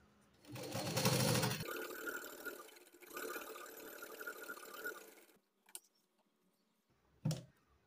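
A sewing machine stitches a blouse lining in two bursts, a loud whirring run of about a second, then a longer, steadier run of stitching, followed by quiet with a couple of sharp clicks.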